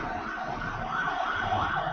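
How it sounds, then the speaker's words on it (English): An emergency vehicle siren wails outdoors, its rising and falling tone carrying from a distance into a quiet room, with no one speaking over it. "even just now we heard this siren"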